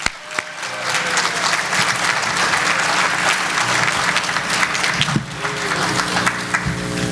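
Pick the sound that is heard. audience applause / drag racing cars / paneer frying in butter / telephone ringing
audience applause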